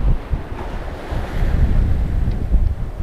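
Sea surf washing steadily over a beach at Canvey Island, a continuous broadband rush with wind buffeting the microphone, fairly loud and close, no talking.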